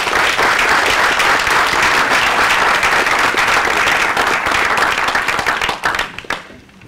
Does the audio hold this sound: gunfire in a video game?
no